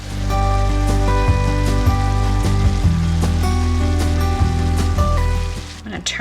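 A pan of food with lime juice and smoked paprika simmers steadily on the stove, a close, busy bubbling and sizzling with soft irregular pops throughout.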